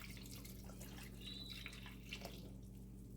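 Half and half poured into a cooking pot for rasta pasta, a soft, quiet liquid trickle and drip against steady low kitchen hum, with no talking.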